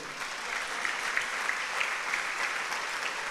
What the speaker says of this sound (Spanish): Alguien le puede dar un fuerte aplauso al Señor.